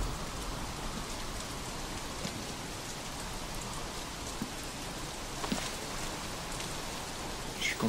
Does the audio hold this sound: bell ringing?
no